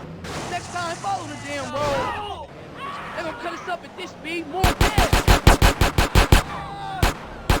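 Rapid video game gunfire from Grand Theft Auto San Andreas, with a loud burst of about a dozen quick shots followed by a single shot, after a stretch of overlapping chatter and character voices.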